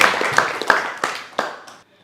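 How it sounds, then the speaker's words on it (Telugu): Children clap their hands for a father at an orphanage, a brief scatter of uneven claps, close and fairly loud, thinning out and stopping after about two seconds. "ఒకసారి క్లాప్స్ కొట్టాను నాన్నకి."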